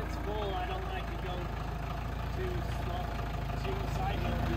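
A farm tractor idling with a steady low engine rumble while it makes awkward turns on a driveway, close and continuous, with voices talking over it.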